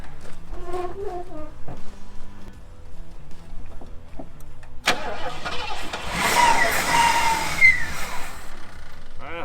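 A rusty 351 Cleveland V8 in a Ford LTD, dormant 15 years, cranks with a rough, stuttering turnover, then catches with a sharp burst and settles into a loud, rumbling idle close by.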